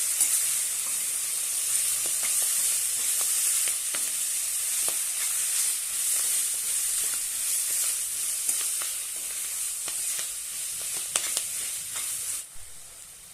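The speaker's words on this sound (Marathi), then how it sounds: "मेथी छानपैकी धुवून घेतलेली आहे ती घालूया आणि छानपैकी परतून घेऊया।" Washed fenugreek leaves sizzle as they are sautéed in a pan for methi pulav, a steady close frying hiss broken by the light scrapes and clinks of stirring, with no one talking.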